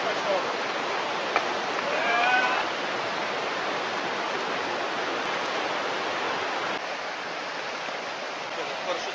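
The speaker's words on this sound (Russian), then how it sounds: "Там ручей этот течет" A mountain stream in Northern Galilee, Israel, rushes with a steady, dense hiss of flowing water, close and continuous, with a few faint chirps above it.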